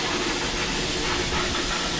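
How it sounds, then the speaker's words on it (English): Steam locomotive on a heritage railway line between Tenterden and Bodiam, releasing a steady, loud broadband hiss of steam that holds for the whole stretch with no break. "Beautiful steam engine, isn't it?"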